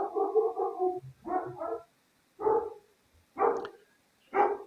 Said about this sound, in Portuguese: meu cachorro acuando aí